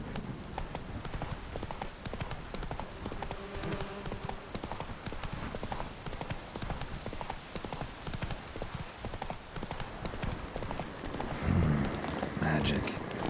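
Hooves of Roach, the horse in The Witcher 3 game, clip-clop in a fast, continuous galloping rhythm throughout. Game music and ambience run underneath, with a short snort near the end.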